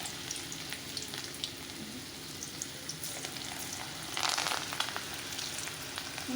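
Hot oil sizzles in a pan in a home kitchen, a steady close crackle and hiss throughout that flares louder briefly near the end, with no voices.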